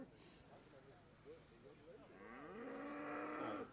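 Hereford cattle lowing at a national livestock show, with a long loud moo building near the end over the hum of the showground while a voice talks underneath.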